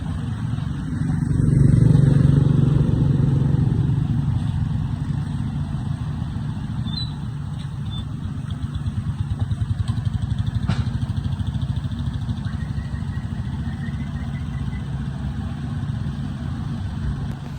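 A diesel drag-racing vehicle's engine idles steadily nearby, a low throbbing rumble that swells briefly early on and then holds an even, continuous drone.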